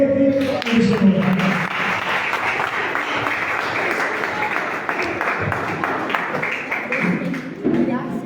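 Congregation applauding during a Brazilian Portuguese church service, a steady wash of clapping over the full stretch with a voice speaking at the start and near the end.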